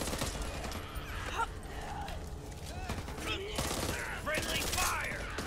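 Gunfire rattles in the zombie shooter Back 4 Blood, with rapid bursts and scattered shots amid game effects and several voices talking and shouting over the action.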